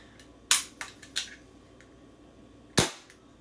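Suppressed gunshots through a DonnyFL Tanto suppressor, heard from 24 inches off the muzzle at a 45-degree angle: sharp cracks, with three lighter pops close together, then one loud crack after a pause.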